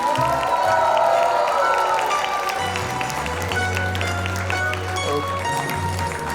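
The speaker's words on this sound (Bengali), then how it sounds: "সেভাবে একটা হাততালি চাই" An audience claps and cheers after a stage play, a dense, loud wash of applause with shouts and whoops, voices mixed in throughout.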